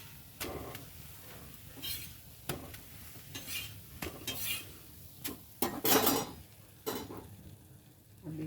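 Methi thepla frying in oil on a pan, with soft sizzling broken by intermittent scraping and clinking of a spatula against the pan, moderately close and without talk.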